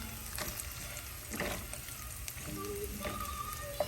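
Cashews fry in hot cooking oil for uppittu, a soft, steady sizzle close by with a few light clinks and stirring sounds over it.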